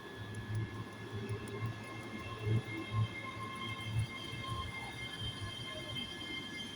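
ScotRail Class 385 electric train arriving at Stirling station on an Alloa to Glasgow Queen Street service, a steady rolling rumble with a few louder wheel thumps over rail joints, moderately close on the platform.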